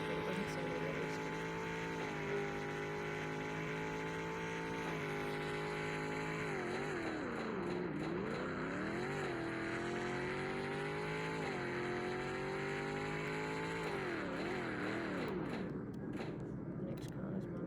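A video-game car engine in Car Dealership Tycoon holds a steady, unrealistic synthetic drone, with pitch sweeping up and down as it revs repeatedly, loud and continuous throughout.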